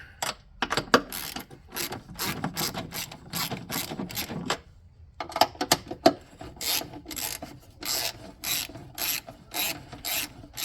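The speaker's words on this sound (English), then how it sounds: "10mm wrench for the bolts. First step is to take off the retaining" A 10mm wrench works the battery holder bolts on a Toyota 4Runner, giving close, irregular ratcheting clicks and metallic scraping in short bursts with brief pauses.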